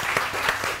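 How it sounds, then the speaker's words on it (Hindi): A studio audience on a morning TV show claps in a brief, steady burst of applause, close and fairly loud. "आमना के लिए बहुत सारी तालियां दी।"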